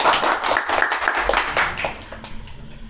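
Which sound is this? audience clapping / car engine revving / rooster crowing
audience clapping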